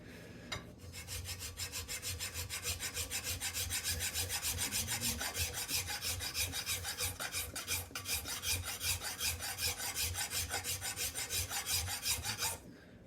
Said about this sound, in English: Filing this way isn't the flattest way.